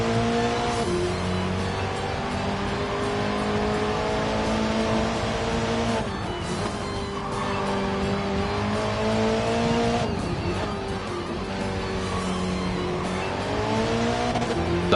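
A race car in Gran Turismo 7 revs hard through its gears, the engine note climbing and dropping with each shift, with occasional tire squeal. Loud and continuous, with no voices.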